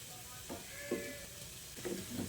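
Soft, steady sizzling of fritters frying in oil over medium heat, with a few faint clinks and stirring sounds over a low hiss.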